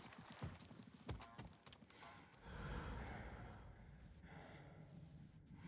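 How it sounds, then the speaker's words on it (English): Horse hooves in the video game Ghost of Tsushima clip-clop in quick, sharp beats at first, then give way to a steadier rumble of movement, with a faint snort or breathy sound mixed in. "That right there is a horse."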